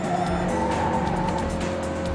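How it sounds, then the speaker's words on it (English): A Honda Civic Type R engine roars steadily at high revs in third gear on a race track, a continuous loud drone with a slight tire hiss, no voices. "I love the way the engine revs coming up, third gear into turn one."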